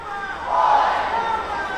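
Brief crowd roar swells at a college volleyball match between Elmhurst University and Illinois Wesleyan as mascot Victor E rallies the fans, rising then holding at a steady level.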